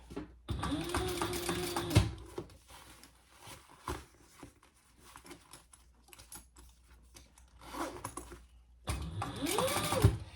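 A sewing machine topstitches a seam on a crossbody bag in two close runs at the start and end, with quieter fabric handling and clicks between them.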